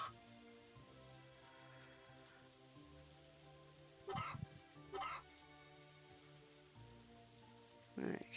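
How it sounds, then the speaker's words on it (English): Rain falling in the farming game Story of Seasons: A Wonderful Life, a soft steady patter behind game music, with a few brief chicken clucks breaking in now and then. "I should have known it's going to rain today."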